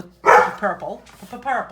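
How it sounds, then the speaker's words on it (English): A dog barks indoors, one sharp loud bark followed by a few shorter, softer yips and woofs in quick succession. "And let's all see if we can mentally get Paisley to stop barking."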